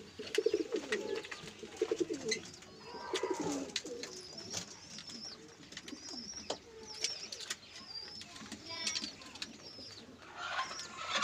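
Pigeons coo repeatedly in a domestic loft in Faisalabad, soft rolling calls at close range mixed with faint chirps, scattered clicks and light rustling.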